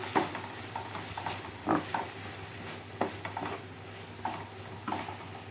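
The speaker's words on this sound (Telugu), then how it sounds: "ఒక రెండు నిమిషాలు అలా మగ్గనిస్తే ఇది మెత్తగా అయిపోతుంది మొత్తం కలిపేసుకొని" Tomato curry sizzling in a pan while a spoon stirs it, with soft frying hiss under a series of distinct scraping strokes against the pan.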